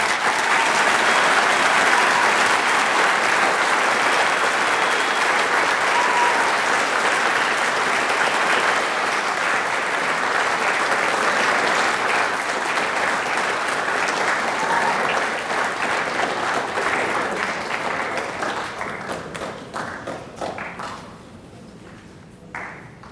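Sustained audience applause at a high school Veterans Day program, dense and steady clapping from a large crowd for about eighteen seconds before tapering off into scattered claps near the end.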